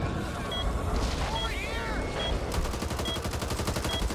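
Rapid gunfire rattles in Back 4 Blood, with a fast regular burst of shots in the latter half over game sounds, and a voice is heard along the way.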